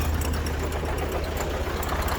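A 1965 Massey Ferguson 203 tractor with front bucket loader and backhoe idles nearby, a steady low diesel rumble with even, continuous chugging and no talking.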